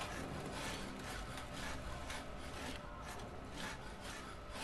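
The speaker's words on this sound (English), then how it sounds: "Look, I can drill this thing." A drill bit bores into something in the video game A Way Out, making a steady, faint grinding rasp that runs unbroken for several seconds.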